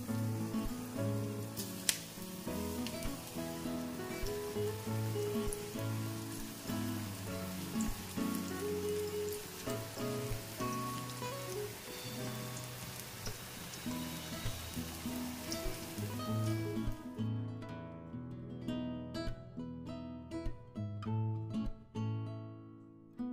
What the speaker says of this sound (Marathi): आता आपण भजी तळून घेऊया।